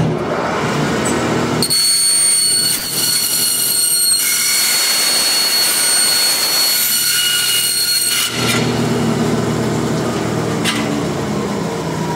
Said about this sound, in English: warn yourself that this bandsaw is going to be loud